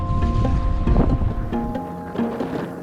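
Strong wind buffets a small fishing boat at sea off Indonesia's northern tip, a steady rushing roar with gusty swells and hull noise, heard close with no talking.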